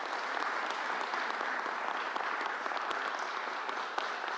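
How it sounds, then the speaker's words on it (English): Audience applause at a political event in the Southwest Bronx, a dense, sustained round of clapping from a large crowd, even and unbroken throughout, with no speech on top. "Let's give another round of applause."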